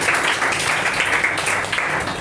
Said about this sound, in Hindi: बहुत अच्छे से एक बार और ताली बजा दीजिए